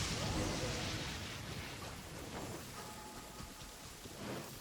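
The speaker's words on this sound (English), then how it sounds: "Uh-oh! Lightning storm!" Steady heavy rain with rolling thunder fills a lightning storm in the video game Genshin Impact, a dense continuous wash that stays loud throughout.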